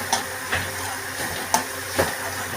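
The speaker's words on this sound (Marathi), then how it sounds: "असं ढवळून घ्यायचं." A spoon stirs drumstick pod curry with chilli powder and turmeric in a hot pan, giving a soft continuous sizzle and four or five distinct scraping clinks at uneven intervals, close and clear.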